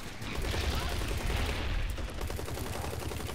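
Video game gunfire in Hazrd Ops, rapid bursts of shots rattling continuously for a few seconds at moderate loudness, with a faint voice beneath.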